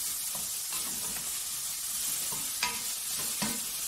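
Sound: onion and chicken frying in a pan

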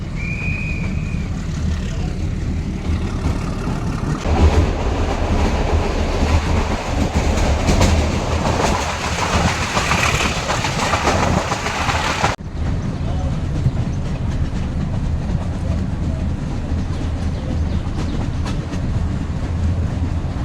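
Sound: narrow-gauge train running on rails

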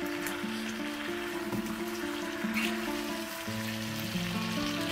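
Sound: kwie kwie fish curry frying in a pan

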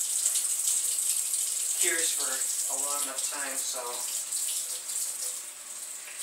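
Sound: water washing a primitive bow with lye solution

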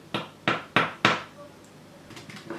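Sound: crisp fried cookies clicking when tapped

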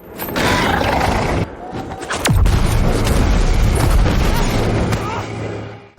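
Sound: landmine explosion

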